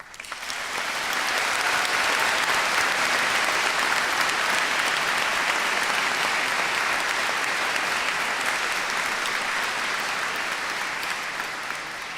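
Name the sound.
graduation ceremony audience applause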